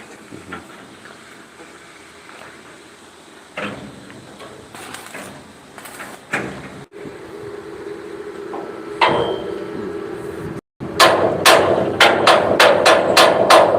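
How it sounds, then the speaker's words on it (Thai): Metalwork on a floating pontoon of about 7.5 by 14 metres gives sharp, irregular clanks and bangs, ending in a quick run of loud, evenly spaced metallic strikes. "เดี๋ยวให้ดูช่างเชื่อมครับผม"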